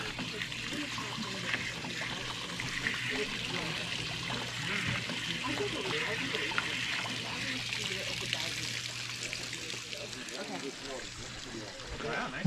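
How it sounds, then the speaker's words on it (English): Water trickles and pours steadily at a backpacking camp in the Weminuche Wilderness, a continuous close rinsing flow lasting several seconds with faint voices and movement underneath. "20 seconds of rinsing."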